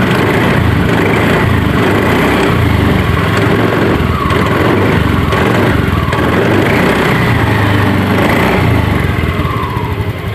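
A Honda Scoopy scooter engine, once fixed after failing to crank, runs close and loud with a rough buzzing idle that carries on steadily and fades slightly at the very end.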